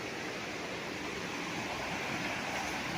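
Steady broadband rush of a clear river beside a farm lot in Real, Quezon, continuous and fairly loud with no pauses or voices, like water tumbling over rocks.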